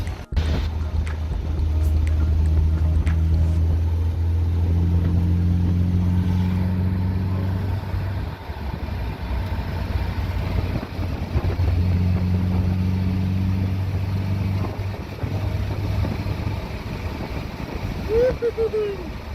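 A 1974.5 MG MGB, fitted with an inline fuel pump and a new fuel pressure regulator, drives off for a cruise. Its low, steady engine drone rises and falls through gear changes, with wind rushing over the microphone.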